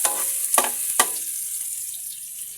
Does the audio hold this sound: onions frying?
yes